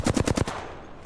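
A rapid burst of about five video game gunshots fires in quick succession, loud and punchy. The last shot trails off into a short decaying echo.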